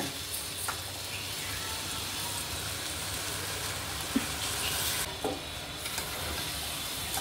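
Washed rice sautéed in a pan with salt, a soft continuous sizzle under occasional scraping stirs, fairly quiet and close, with no speech.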